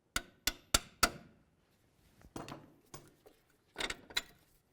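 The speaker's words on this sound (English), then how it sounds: "give it a couple loving bonks with a hammer" Four sharp metallic hammer blows ring out in quick succession on a Nissan Sentra steering knuckle while removing a CV axle, followed by softer scattered knocks and two more strikes, close by with no talking.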